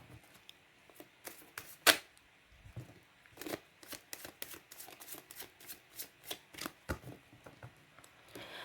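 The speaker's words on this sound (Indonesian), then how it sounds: "dan saya kocok kartunya" Tarot cards being shuffled by hand, giving a quick run of crisp riffling snaps and flutters at close range, with one sharp louder slap near the start, and no talking.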